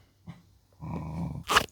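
A dog barks at its own reflection in a mirror: a short low yelp, then a sustained throaty growl-like vocalization and a sharp bark burst at the end, close and fairly quiet.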